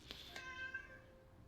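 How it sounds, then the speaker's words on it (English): A house cat meows in a short, clear call, fairly close and over quiet game music in the background. "Oh, there was my cat meowing again."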